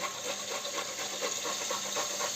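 Onion and grated carrot fry in a pan for a quick summer soup, making a steady, close sizzling hiss with faint crackles throughout.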